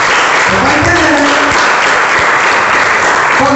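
Church congregation clapping during a sermon, loud dense applause filling the whole moment, with some faint voices and tones mixed underneath.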